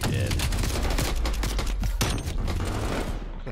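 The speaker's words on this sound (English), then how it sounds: "Two people shooting him right there too" Sustained automatic gunfire rattles through a video game shootout, a dense, loud burst of rapid shots from more than one weapon that runs continuously for a few seconds before tapering slightly.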